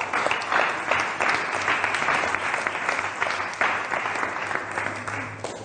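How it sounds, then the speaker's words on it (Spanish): Church congregation applauding steadily and loudly, a dense sustained patter of many hands clapping for nearly six seconds with slight swells and no talk over it. "Denle un aplauso al Señor."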